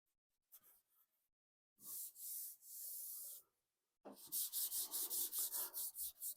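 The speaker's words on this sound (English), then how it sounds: "So I'm just dry sanding." Hand dry-sanding car paint on a 1966 Ford Mustang, several short bursts then a steady run of quick rhythmic back-and-forth strokes, close and fairly loud.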